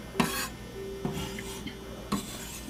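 Nuts are lightly stirred into chocolate mint cookie dough, giving soft rasping scrapes of a utensil against the bowl in a few quiet strokes.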